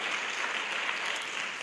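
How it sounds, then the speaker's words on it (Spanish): Fairly faint, steady applause from a congregation during a church sermon, a brief wash of clapping with no clear talk. "Dale un aplauso al Señor, por favor."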